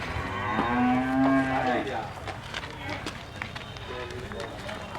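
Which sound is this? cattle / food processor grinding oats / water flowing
cattle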